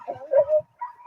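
Muzzled protection-trained dog lets out short whimpering yips and a strained bark-like whine while straining to bite, close and fairly loud, a couple of quick vocal bursts followed by a brief higher whine.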